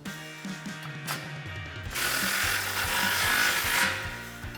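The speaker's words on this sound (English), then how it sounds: "Grab your 15 deep socket and tighten down that clamp." A ratchet with a 15 mm deep socket clicks repeatedly while tightening an exhaust clamp on a 2019-2021 RAM 1500 5.7L during a Borla dual exhaust install; close, steady ratcheting that grows louder and busier halfway through, with no talking.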